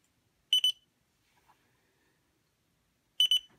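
An alarm clock gives two short bursts of rapid, bright beeping, one near the start and another about three seconds later, with near silence in between.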